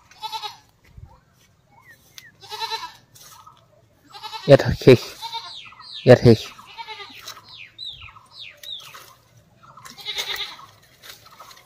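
A goat bleats loudly twice in wavering cries, with quieter bleats and bird chirps scattered around, and a brief spoken remark.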